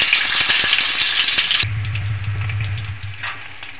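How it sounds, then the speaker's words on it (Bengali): Eggs coated in turmeric fry in hot oil with a loud, close crackling sizzle that cuts off abruptly after a moment, leaving a low hum. "হলুদ দিয়ে আমার ভাজা হয়ে গেছে ডিমগুলোকে।"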